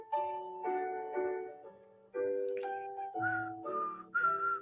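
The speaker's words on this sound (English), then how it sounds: "I don't need you whistling." Melodic whistling in short phrases with clear sustained tones, fairly close and loud, with brief pauses between runs of notes.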